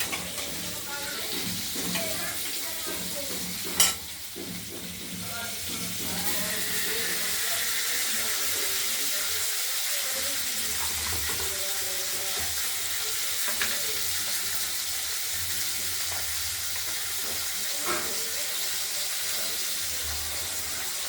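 Spices and halved tomato fry for a katla fish curry, a steady, loud sizzle filling the pan, with a sharp clink from stirring early on and occasional scraping beneath.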